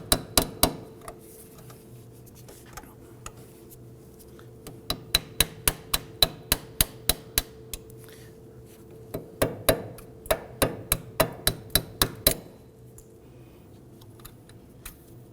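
Repeated sharp metallic taps from a 90-degree pick knocking the brake flex hose clip off a 2008-2011 Ford Focus front strut, coming in quick bursts of evenly spaced clicks with short pauses between them.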